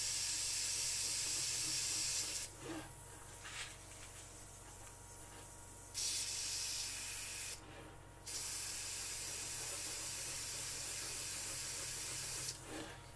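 Airbrush spraying paint through a stencil, a close airy hiss in several bursts of a few seconds each, separated by quieter gaps.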